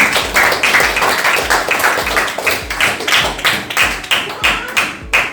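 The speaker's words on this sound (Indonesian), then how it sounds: "Kasih aplaus untuk pemenang." A small group claps for the winners at a classroom teaching session, giving steady, rhythmic, close-up applause that runs the whole time, with no talking.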